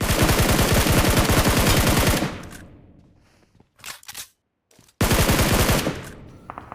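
Loud rapid-fire bursts from a SCAR-L assault rifle in a shooter video game: a long sustained burst, then a few brief faint shots, then another sustained burst that closes the clip.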